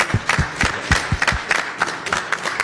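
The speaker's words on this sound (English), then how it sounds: "please everybody join me in giving the panelists a big round of applause" Applause from a panel-discussion audience at a banking and Silicon Valley event, a short burst of scattered, uneven claps that comes across as fairly sparse rather than a dense ovation.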